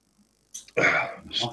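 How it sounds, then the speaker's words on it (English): A person coughs on a live stream: a couple of harsh, close bursts in quick succession after a near-silent start. "Sorry, I was coughing there."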